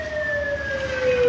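An ambulance siren sounds during fire training at a hospital, a brief, clear, steady wail that slides gradually lower in pitch over faint road noise.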